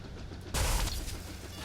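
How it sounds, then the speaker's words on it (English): Guns firing at a black wall in the Robocraft robot-building game, a sudden loud burst of shots that cuts in partway and rattles on under a steady background hum. "Here, we'll just shoot at a black wall."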